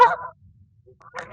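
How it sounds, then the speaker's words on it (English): Two short, harsh honks in the style of a Canada goose are produced by an AI model, separated by near-silence, each loud and close. "Honk, that was trained on recordings of the Canada Goose from Zeno Canto"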